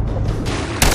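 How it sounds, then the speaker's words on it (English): Gunfire in The Last of Us Remastered, a loud dense burst of shots filling the whole second with a sharper blast near the end, no talking over it. "I shot the hell out of that guy, huh?"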